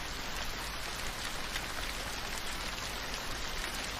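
Gentle rain falling steadily, a dense even hiss of drops on surfaces with no pauses or other sounds.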